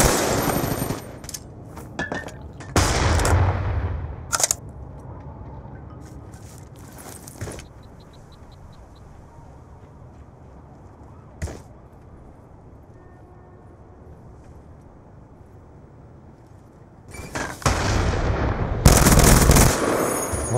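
Gunfire bursts in Call of Duty Black Ops 2 during a 3v3 Search and Destroy match, loud clusters of rapid shots at the start and again near the end, separated by a quieter stretch of game ambience.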